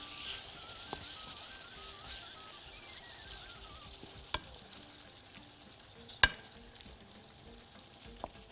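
Diced tomatoes frying in a pan and being stirred, with a soft steady sizzle and a few sharp utensil clicks against the pan, heard close up with no talking.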